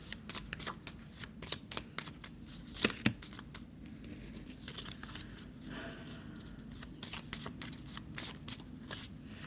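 Tarot cards are shuffled by hand in quiet, close-up bursts of rapid papery riffles and soft taps, repeating steadily with no talk over them.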